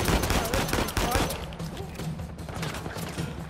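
Rapid gunfire bursts in the Uncharted 4: A Thief's End video game, loud and dense at first, then continuing as quieter, steady shots.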